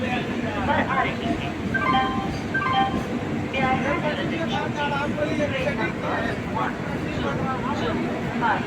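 A train pulling into Dhanbad station rumbles steadily, with a constant low roar and faint metallic clinks, while voices murmur in the background throughout.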